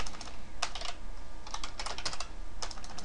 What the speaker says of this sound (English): Boy, I cannot type tonight.